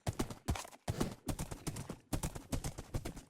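Horse hooves clip-clop steadily in the Minecraft video game, a rhythmic run of close, fairly loud hoofbeats broken by a couple of short gaps.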